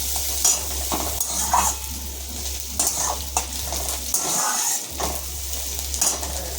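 Spices tempering in hot oil for dal in a home kitchen, a bright continuous crackling sizzle with repeated utensil scrapes and clinks, close and fairly loud, without any talk.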